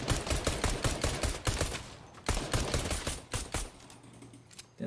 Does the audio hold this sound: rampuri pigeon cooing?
no